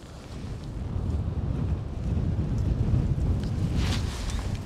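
Wind buffets the microphone outdoors beside the Gauja river at the Kazu krācītes rapids while fishing for vimba, a steady, loud, low rumble that swells slightly midway, with no talk.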